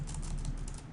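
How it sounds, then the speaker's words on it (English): Computer keyboard typing in a steady stream of soft key taps, close and fairly quiet, with no voices. "let's just type it out again"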